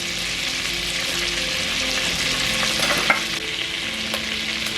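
Cloves and curry leaves sizzle steadily in hot oil as the base for yellow rice, a continuous close frying hiss with a brief clink near the end and no talk.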